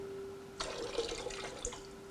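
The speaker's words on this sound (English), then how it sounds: "if we just pour some water in it" Water pours into a glass Klein bottle in a short, gentle splashing trickle lasting about a second, heard close and clear over a faint steady hum.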